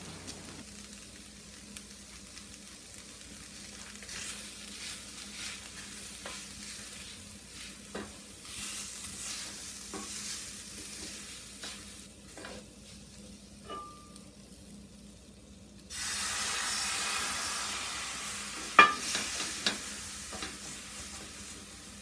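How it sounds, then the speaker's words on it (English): Minced garlic and ginger cooking without oil in a pan, stirred with repeated scrapes and taps over a low frying hiss that swells into a louder, steady sizzle near the end. "Now stir in 1½ tablespoons minced garlic and 1½ tablespoons minced ginger, and continue cooking in the same manner as before."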